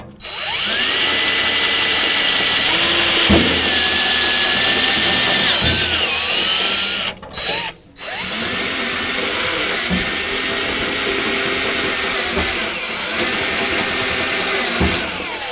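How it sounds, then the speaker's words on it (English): A power drill whines steadily into sheet metal fender panels on a 2015 Jeep JKU, drilling holes out to 3/8 inch, with a brief pause midway before the drilling resumes, loud and close. "Now we're drilling these all out to 3/8."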